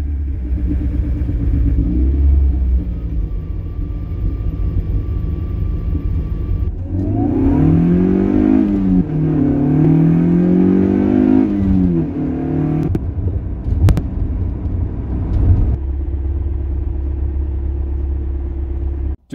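Toyota MR2 Spyder engine fitted with Dynaliner insulation revving from a steady idle, climbing and falling in two rising sweeps before settling back to a low, even idle hum, heard continuously and fairly close.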